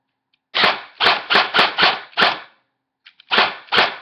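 Airsoft gun with a properly shimmed V3 gearbox on a 7.4 volt LiPo fires in sharp, snappy shots. Six come in quick succession, then a pause, then two more, each loud, close and clean-sounding.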